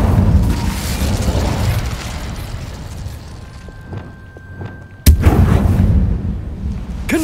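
An Incendio fire spell cast in Hogwarts Legacy, heard as a sudden loud whooshing burst that cuts through rumbling combat noise and fades into a crackling tail.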